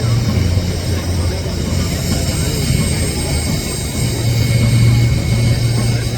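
A fast-looking piston-engined plane taxis past along the flight line at the Wings Over Shellharbour airshow, its deep droning engine loud and steady throughout, swelling slightly near the end, with faint talk underneath.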